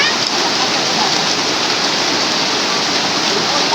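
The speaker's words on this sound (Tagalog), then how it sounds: "malakas na ang ulan, An" Heavy rain pours down steadily, a dense, loud, unbroken hiss of water striking surfaces close by throughout.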